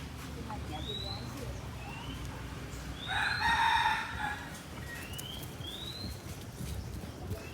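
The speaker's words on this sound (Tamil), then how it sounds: "சுற்றி இங்கே சேவல் கோழி தான் நிறையா வளர்த்துட்ருக்காங்க" Roosters crow near a Buddhist temple at a Pattaya viewpoint in Thailand. One loud, close crow stands out midway, with fainter, more distant crows before and after over a steady outdoor background.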